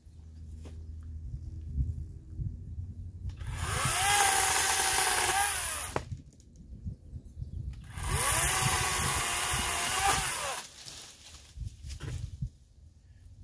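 Powered outdoor trimming tool, a pole-style chainsaw cutting wood overhead, roars loudly in two bursts of about two and a half seconds each, with quieter handling noise between and after.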